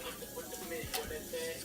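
Seasoned blackened honey chicken sizzles on a hot grill, a steady hiss and crackle with a brief scrape or clatter midway, close and moderately loud with no talking.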